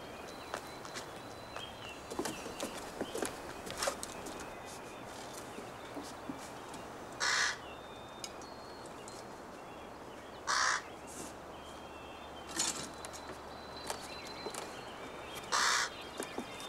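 A crow caws in four separate loud bursts spread across the stretch, set against a steady outdoor background with scattered footstep-like knocks and faint ambient noise.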